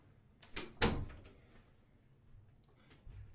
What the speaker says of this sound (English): Let me close this door first.